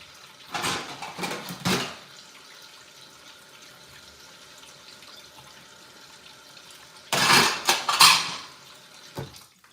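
Dishes and cutlery clatter in a kitchen sink, two short bursts of clinking near the start and a louder cluster near the end, with faint running water and quiet room tone between.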